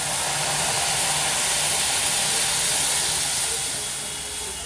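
Watered-down buttermilk poured into a hot pan for dahi suji bursts into a loud, steady broadband hiss and sizzle that fades slightly toward the end.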